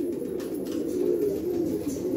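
A purebred Nagercoil pigeon coos in a continuous low, throaty warble close by, steady and unbroken with no voices.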